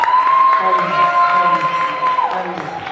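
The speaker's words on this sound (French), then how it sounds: "Applaudissez mes musiciens," A live concert audience applauds and cheers the musicians, a steady wash of clapping and crowd noise with a sustained tone ringing over it, tapering slightly toward the end.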